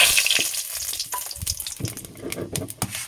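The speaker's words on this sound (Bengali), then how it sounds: "আর দিয়ে দেবো দুটো তেজপাতা" Two bay leaves and a pinch of salt hit hot oil in a wok, giving a close, steady crackling sizzle with scattered pops and a few utensil taps, no voices.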